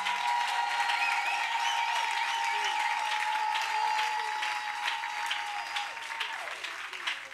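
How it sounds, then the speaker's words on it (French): A church congregation at a Sunday service applauds and cheers, steady dense clapping with voices shouting over it, continuous and loud throughout. "Il faut acclamer ton Dieu"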